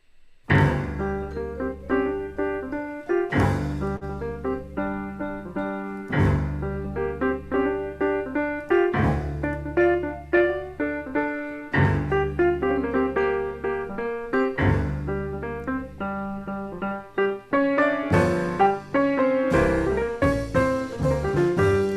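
A jazz trio plays a lively melody, with piano chords and bright lead notes over walking bass and light drums, steady and unbroken.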